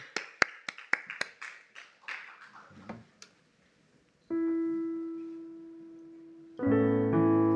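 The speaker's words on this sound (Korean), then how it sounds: "우리 예배를 받으신 하나님께 우리 큰 박수로 영광 올려드릴까요?" A church congregation at an evening summer retreat service applauding: a burst of clapping that thins out into scattered claps, followed by sustained electronic keyboard chords.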